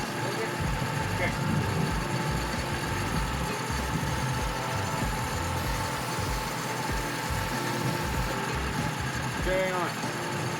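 A 33-year-old Mazda B2200 mini truck engine, long sat in a garage, idles steadily with a low continuous rumble throughout, with people talking faintly over it.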